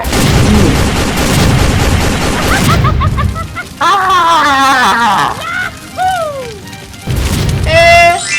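Loud video game gunfire rattles in dense bursts with booming impacts over a game soundtrack, then gives way to warbling electronic effects and a voice.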